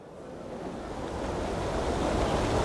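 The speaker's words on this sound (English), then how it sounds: "I'm standing on the edge of a thundering 40-foot waterfall" White water churns over a 40-foot waterfall on the River Nevis in the Scottish Highlands, a dense steady roar that swells slightly, with wind buffeting the microphone and no voices.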